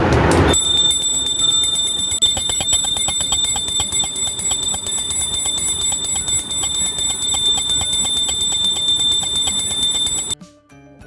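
An electric puja bell, plugged in through an adapter and switched on, rings continuously with a bright, rapid, buzzing strike that stays loud and even for about ten seconds, then cuts off abruptly.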